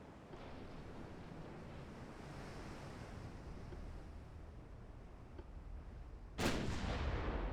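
Warship guns fire in the naval strategy game Ultimate Admiral Dreadnoughts: a soft, continuous roar like wind and surf, then one sudden sharp crack from a gun near the end.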